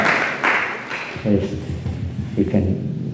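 An audience at a six-hour kirtan gathering in Manchester claps in a loud, dense burst that fades after about a second, followed by a voice speaking over a softer, scattered patter.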